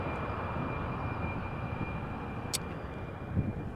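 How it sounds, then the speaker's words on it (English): A Boeing 747 airliner approaching Amsterdam Schiphol Airport: a steady, broad engine roar and rumble at moderate distance, continuous for the whole stretch with a thin high whine and a brief sharp click partway through. "the 747 is getting closer by"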